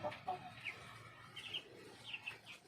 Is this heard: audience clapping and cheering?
no